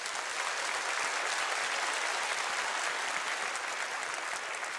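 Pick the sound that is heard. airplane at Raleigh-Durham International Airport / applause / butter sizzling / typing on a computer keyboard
applause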